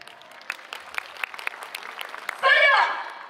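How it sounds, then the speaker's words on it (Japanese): Audience members clap a steady, even beat along with a student YOSAKOI dance team at an outdoor festival venue in Japan, the claps sharp and fairly close, before a loud sustained tonal burst cuts in near the end. "どうぞご手拍子のほどよろしくお願いいたします"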